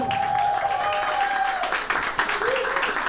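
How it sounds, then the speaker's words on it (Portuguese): An audience at the Teatro Gamboa applauds the performing artists after a performance, a dense wash of clapping with a tonal ringing sound and some voices underneath. "pedir uma salva de palmas para os meus amigos, artistas fantásticos"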